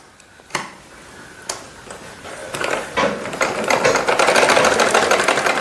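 A sewing machine joins the seams of a shimmi, starting with a few separate clicks and clunks, then building into a loud, close, continuous rapid stitching whir.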